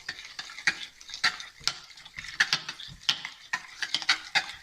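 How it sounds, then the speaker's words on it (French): Milk being stirred into shortbread dough, giving a run of repeated scraping and clacking strokes from a spoon against the bowl. The strokes come close and irregular, with no talk over them. "vous videz votre lait et vous allez mélanger encore une fois"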